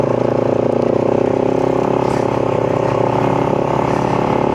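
A KTM 990 Adventure motorcycle rides ahead on a snowy North Wales lane, its twin-cylinder engine droning loud and steady throughout, heard from a following bike with a continuous rumbling pulse.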